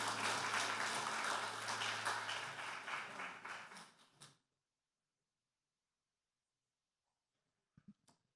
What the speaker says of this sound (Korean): 하나님께 영광의 박수 돌도록 하겠습니다